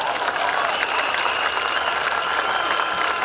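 Steady applause from a church audience at a ministration concert, dense clapping that fills the whole stretch at an even level, with crowd noise mixed in and no clear voice on top.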